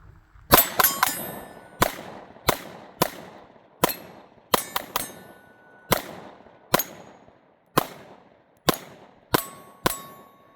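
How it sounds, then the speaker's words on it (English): SIG P365 handgun fired at steel targets, roughly fifteen sharp shots in an irregular rhythm, each ending with a ringing metallic clang that decays quickly, loud and near with no talking. "So let's shoot the 365 again."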